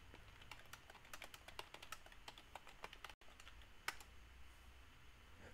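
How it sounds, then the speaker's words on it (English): Mechanical computer keyboard being typed on, a quick irregular run of sharp clicky keystrokes close by, with a brief pause and a louder clack near the end, no voices. "You can always hear a mechanical keyboard."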